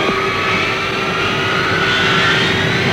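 A Strategic Air Command aircraft roars on takeoff with a loud, steady engine drone and a rising whine, continuous and close throughout.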